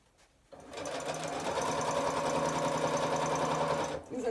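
A sewing machine stitches along the lining of a simple bag in one continuous close run of rapid mechanical whirring and clatter, starting after a brief quiet moment and stopping just before the end.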